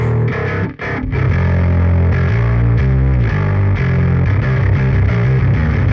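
Metal bass guitar riffs play loud and sustained through a distortion amp sim, with the lows cut beforehand by a Harrison channel strip, giving a tight, gritty, continuous tone with one brief dropout near the start.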